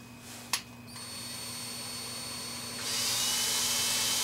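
A power drill whirring steadily as it bores holes in a guitar headstock during inlay work, with a sharp click at the start and the motor pitch rising and growing louder near the end.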